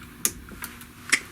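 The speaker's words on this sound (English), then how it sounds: "I'm going to then snip this off" Cutters snip the excess end off a plastic cable tie inside an Onkyo unit, giving two sharp close clicks a moment apart against quiet background.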